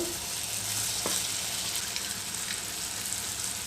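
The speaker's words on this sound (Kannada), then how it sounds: "ಎಣ್ಣೆ ಕಾದಿದೆ ಇವಾಗ ಸಣ್ಣ ಸಣ್ಣ ಉಂಡೆಗಳಾಗಿ ಎಣ್ಣೆಯಲ್ಲಿ ಬಿಡಬೇಕು" Urad dal bonda batter sizzles quietly in hot oil for deep frying, a soft continuous crackle with one brief clink near the start and no talking.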